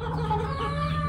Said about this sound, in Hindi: ये सील शामू मुर्गा है।